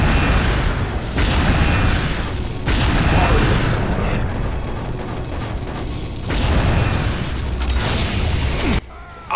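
Black hole weapon in the Unreal II video game pulling in the player, a loud, dense roaring rumble with booming bursts that swells and cuts off abruptly near the end.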